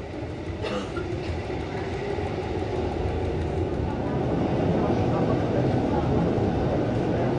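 The Rigi Bahn rack railway train in Switzerland rumbling along with a heavy low mechanical drone and faint clatter, building slightly louder toward the end, close and continuous.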